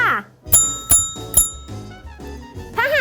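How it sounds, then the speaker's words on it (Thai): A classroom warning bell for young children rings in three bright, quick strikes, with a voice speaking before and after. "กระดิ่งเตือนค่ะ"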